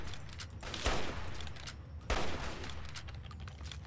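Video game gunfire during a sniper duel in Fallout: New Vegas, with two sharp, loud shots about a second apart over a steady rumbling ambient background.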